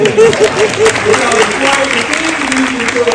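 Audience clapping for a man seated beside a former president at a live radio event, moderately loud applause with a voice talking over it.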